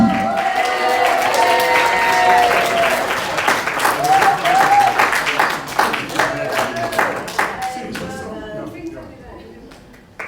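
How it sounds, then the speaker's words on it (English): Wedding guests at the speeches clap and cheer loudly in a reception room, with music and voices mixed in, the applause thinning into scattered claps toward the end. "And give a massive round of applause for David."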